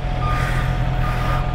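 A truck on the road sounds a loud, steady series of reversing beeps over its engine rumble, close by and continuous.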